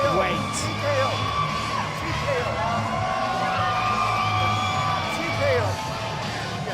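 Crowd noise at a Power Slap event at the Fontainebleau, Las Vegas: a steady roar of cheering with scattered whoops and yells, dense and continuous with no lulls, under an amplified voice.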